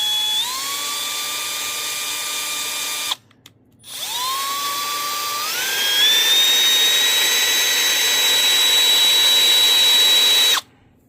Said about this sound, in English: And I'm gonna give this a slow spin and try to polish this up.